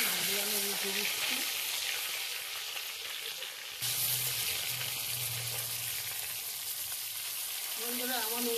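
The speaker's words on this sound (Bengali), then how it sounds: "তেল গরম হয়ে গেছে, তেলের মধ্যে আমি মাছ ছেড়ে দিচ্ছি" Fish frying in hot oil over a homemade earthen stove, a steady bright crackling sizzle throughout, with brief tonal voices or sounds near the start and end.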